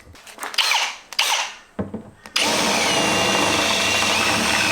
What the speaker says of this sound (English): Now this drill is bigger, slightly bigger than my bolt. Run it through next.